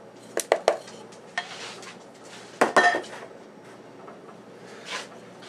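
Ground beef and other ingredients are mixed in a bowl for cheeseburger pockets. A utensil clinks and knocks against the dish in sharp scattered hits, with quieter soft mixing sounds between them.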